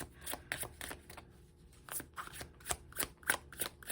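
A deck of tarot cards being shuffled by hand, with a rapid series of close riffling snaps and flicks in uneven bursts and short pauses between, as cards slip and fly out of the deck.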